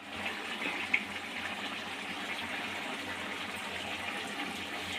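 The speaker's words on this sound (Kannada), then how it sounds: "ನೀರು ಉಪ್ಪೆಲ್ಲ ಹಾಕಿ ಎಲ್ಲ ಚೆಕ್ ಮಾಡಿದ್ಮೇಲೆ ಕುದೀತಾ ಇದೆ" A pot of salted water comes to a boil for aloo matar, giving a steady, close rushing and bubbling water sound with one small clink near the start and no voices.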